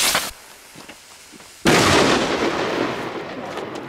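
An S-Special firework goes off outdoors with a sharp, loud bang, followed by a long rumbling echo that slowly fades. A smaller pop sounds just before it.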